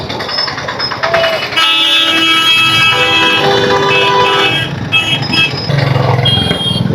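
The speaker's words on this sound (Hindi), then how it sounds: "हॉर्न मार के निकल रहे हैं।" Car and motorbike horns honk repeatedly in a traffic jam in India, with engine noise and a nearby voice talking over the steady din.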